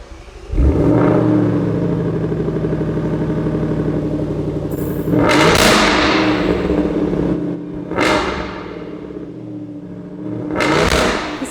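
A 5-litre V8 car engine starts up with a loud crank and catch, then idles with a deep steady rumble, punctuated by three sharp revs that rise and fall, close by.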